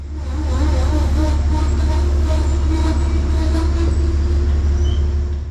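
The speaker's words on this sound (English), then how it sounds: "see New Haven P32 ACDM 231 belch out some black smoke as the big GE lugs train 1868 towards Danbury" A New Haven GE P32 ACDM diesel locomotive, number 231, lugs a Metro-North train toward Danbury, its engine a loud, steady low rumble and drone close by with faint squeals and rail clatter above it throughout.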